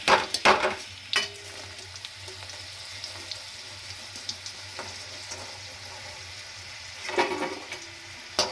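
Potatoes frying in a pan of oil crackle and sizzle steadily while a utensil scrapes and lifts them out, with louder clattering bursts at the start and again near the end.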